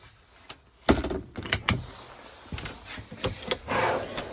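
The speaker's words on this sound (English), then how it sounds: "Slide out cutlery drawer." A cutlery drawer in a Swift Lifestyle 664 caravan slides out with several wooden knocks and soft clunks, surrounded by faint scraping and light rattling.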